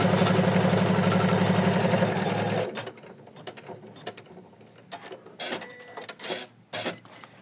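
An embroidery machine stitches a felt applique ornament, buzzing loudly and rapidly for a few seconds before stopping, followed by softer clicks and handling noises.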